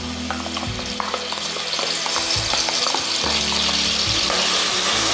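Onion paste fries in hot oil for a chicken curry, a steady close sizzle broken by repeated scraping stirs of a spoon against the pan, with no talking throughout.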